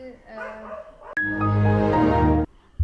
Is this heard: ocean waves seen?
no